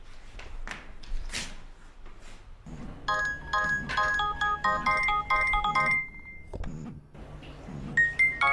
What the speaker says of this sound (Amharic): ስልክ እየጠራ ነው አይሰማህም?